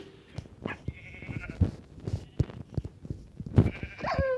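Sheep bleat outdoors in Turkey, several short, wavering calls close by among scattered knocks and rustles, with a clearer rising bleat near the end.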